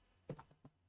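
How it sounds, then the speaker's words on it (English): A few quick, faint keystrokes on a computer keyboard, irregular taps close by in a quiet room. "we're just going to type users, Babis,"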